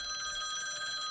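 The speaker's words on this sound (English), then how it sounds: "That's my phone." Mobile phone ringing during a fantasy football podcast, a steady electronic ring tone heard briefly and clearly, close and continuous.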